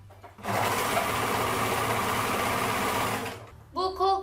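A sewing machine stitches fabric in one fast, steady, whirring run of about three seconds, stopping abruptly, after which a person starts talking.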